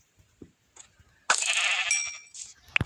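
A single sheep lets out one loud, drawn-out bleat lasting about a second, set against quiet surroundings with a few faint knocks and a sharp click at the end.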